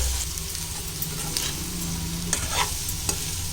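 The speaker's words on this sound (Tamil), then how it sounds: "இப்போ இதை நல்லா நம்ம கிளறி விட்டுடலாம்." Potato fry being stirred in a frying pan, a steady sizzle with scraping spoon strokes and a few sharper clinks, close and continuous with no talk.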